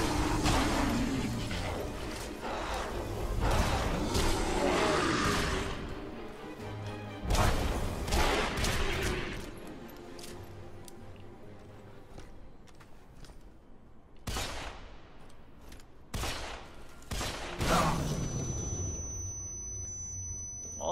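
Gunfire in the action video game Deadfall Adventures: repeated sharp shots and bursts cut through a dense, loud game soundtrack, with sudden blasts clustered in several spells.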